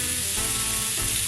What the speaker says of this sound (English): I like my burger with grilled onions. So I'm going to grill it and it will caramelize.